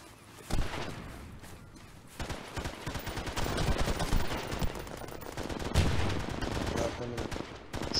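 Gunfire in SOCOM on the Port map, rapid dense volleys of shots, near and loud, building into sustained firing through most of the stretch with a few sharper individual cracks.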